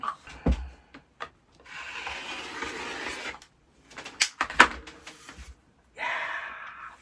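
Rotary cutter rolling through scrap fabric to cut out a circle, heard as soft intermittent rubbing strokes and scrapes with quiet pauses between passes.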